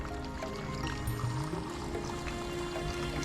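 Water poured into a 20-liter sprayer pump for mixing a tomato spray, a steady running, filling gush with a slight rising tone as the tank fills.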